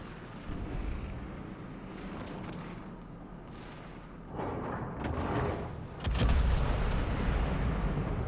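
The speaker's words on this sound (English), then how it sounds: "I can get a nice 3K salvo there." A naval gun salvo fires in World of Warships, with several deep booms and cracks building over a low rumbling battle ambience, the loudest blast arriving near the end and ringing on.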